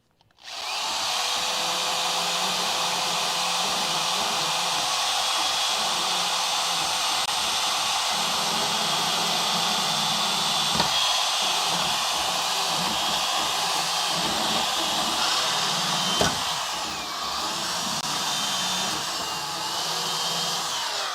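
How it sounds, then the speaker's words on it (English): A tungsten carbide burr on a power tool grinds rust off a Dodge crew cab truck in a shop, a steady high-pitched whine held for about twenty seconds with brief sharper catches near the end. "Man, this tungsten carbide burr is excellent."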